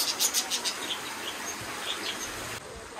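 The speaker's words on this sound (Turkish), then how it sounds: "Ay bu arada kuşlar da var." Small birds chirp and tweet in short high calls around an old mosque complex in Germany, a few bright bursts near the start then scattered faint calls over steady outdoor hiss.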